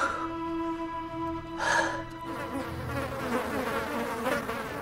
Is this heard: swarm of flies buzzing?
yes